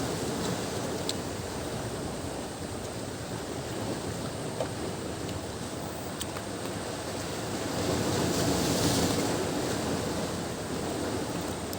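Foamy sea waves wash ashore in a steady broadband surf hiss, swelling slightly near the end, with wind buffeting the microphone and no voices.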